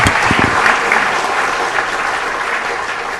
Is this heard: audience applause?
yes